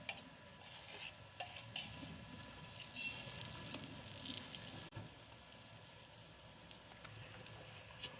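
Eggplant masala (baingan) frying on a tawa, scraped and stirred with a spatula in repeated close clinks and scrapes over a steady, soft sizzle, with no voices.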